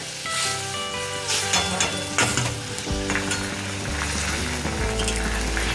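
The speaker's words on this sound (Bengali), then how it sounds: "এবার পনির ঢেলে দেওয়া হলো এবার পনিরটা কিছুক্ষণ ফুটবে" Paneer simmers in a kasundi mustard sauce in a pan, a loud close bubbling sizzle with clinks and a few stirring knocks, running continuously with no talking.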